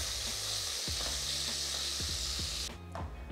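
Chicken searing in a hot pan for a Peruvian chicken and bean stew sizzles with a steady loud hiss, broken by a few quick utensil scrapes and taps as the pieces are stirred, with no talking.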